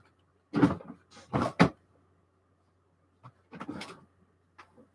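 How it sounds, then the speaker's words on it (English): A drawer in a home being pulled open and shut during a search, giving a few short wooden-sounding knocks and slides close by, with brief quieter clatters afterward and no talking. "I think I put it in this drawer, didn't I? Or did I put it in the other drawer?"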